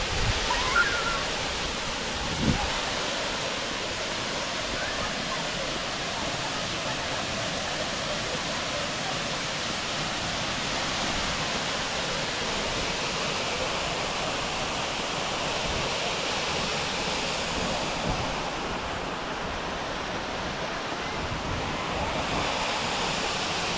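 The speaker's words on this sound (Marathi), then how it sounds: "हा मित्रांनो, विशाल असा धबधबा." The large Prut Fall waterfall in Meghalaya gives a continuous, broad roar of falling water, steady and enveloping for the whole stretch, with no talk over it.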